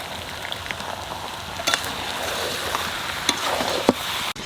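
Mutton sautéing with ginger and garlic in a pan, a steady close sizzle and crackle with a few sharper pops and utensil clicks, no voices.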